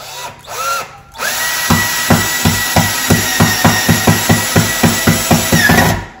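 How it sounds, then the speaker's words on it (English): A power drill drives a knob screw through a painted kitchen cabinet door. After a couple of brief starts, the drill runs loud and close with a rapid, even series of about a dozen clicking pulses as the screw seats. "Literally put it in the back of the hole here and just screw it through."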